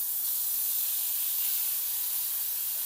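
Steady, bright hiss of mutton fat sizzling in a hot pan, continuous and even throughout with no breaks.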